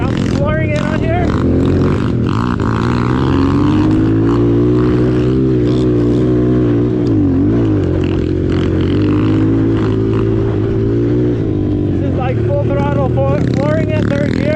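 A Pitster Pro X4 190cc pit bike is ridden at full throttle, its engine droning loud and close with a steady buzzing whine whose pitch rises, dips briefly, then climbs again.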